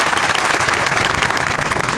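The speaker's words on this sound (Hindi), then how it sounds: "इसलिए एक बार पूरे वापस से प्रिंसिपल साहब का धन्यवाद तालियों" At a school gathering, an audience gives the principal a round of thanks: thick, continuous clapping of many hands, close and steady for about two seconds with no talk over it.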